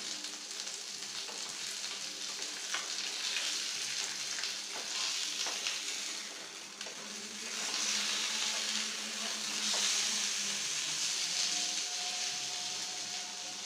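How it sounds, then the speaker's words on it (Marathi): Fish fillets frying in a hot pan, a steady close sizzle with crackling spits that runs unbroken for the whole stretch, no talking. "आता दुसऱ्या बाजूने मी फिश पुन्हा फ्राय करून घेते।"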